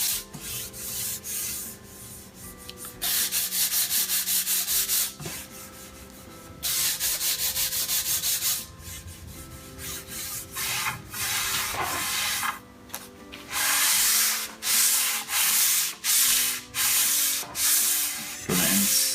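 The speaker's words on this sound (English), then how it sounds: "You want to be careful on your first round of sanding because the finish is not very thick" Hand sanding across the thin finish on wood-stained cabinet doors, a loud close scratchy rasp in long sustained strokes that turn into quicker short back-and-forth passes near the end, with no talk.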